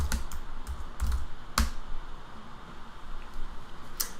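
Computer keyboard keys pressed several times, a few sharp isolated clicks spaced irregularly over a steady background hum, with longer gaps between presses.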